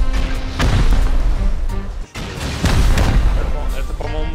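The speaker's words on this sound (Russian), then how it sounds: "Давай эту взрывать." Explosions blowing up a base in the game Rust: loud booming blasts and crashes in quick succession, with a sharp dropout midway, while people talk over the noise.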